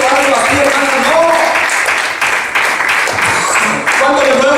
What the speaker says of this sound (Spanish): ¿Cuándo le pueden dar un aplauso al Señor?